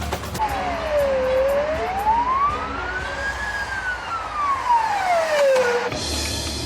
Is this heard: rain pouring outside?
no